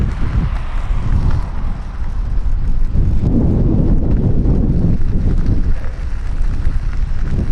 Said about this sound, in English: I've got a very strong headwind